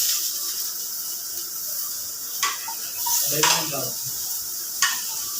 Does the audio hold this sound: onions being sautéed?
yes